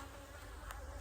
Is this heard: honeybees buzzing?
yes